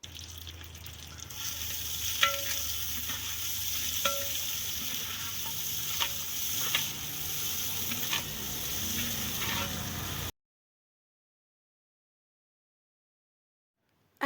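Onions frying lightly in a handi pot, a steady close sizzle with occasional stirring clinks for about ten seconds before stopping abruptly into silence.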